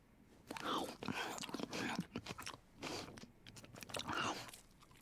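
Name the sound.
someone chewing popcorn loudly, heard on stream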